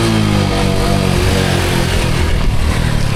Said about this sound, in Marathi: फायनली आपली बाईक चालू झालेली आहे